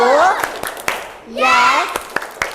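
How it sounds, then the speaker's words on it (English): Children in a classroom clap in unison, sharp single claps spaced about a beat apart, between loud voices chanting and counting. "Clap. One. Clap. Two. Clap. Three. Clap."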